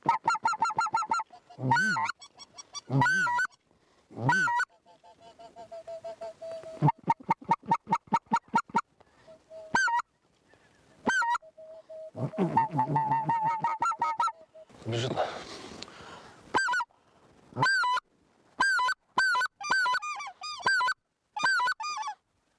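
A flock of specklebelly geese honks in flight over lowland fields in Bulgaria during a hunt. Repeated loud, near calls come in bursts and overlapping choruses with brief quiet gaps between them.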